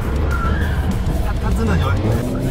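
Rear-wheel-drive Alfa Romeo Giulia sliding through a drift, heard from inside the cabin: a steady engine and road roar with faint tyre scrubbing, while people talk over it throughout.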